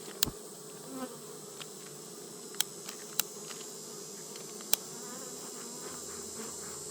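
Bees drone steadily around an open beehive during a smoked hive inspection, a continuous close buzz with a few sharp clicks and knocks scattered through it.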